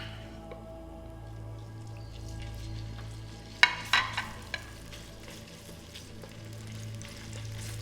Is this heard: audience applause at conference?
no